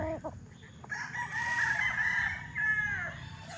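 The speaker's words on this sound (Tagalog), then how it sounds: "Ito yung ating green-legged raptor" A green-legged raptor rooster crows once, a loud, drawn-out call lasting a couple of seconds, preceded by a few short clucks, close by in a farmyard setting.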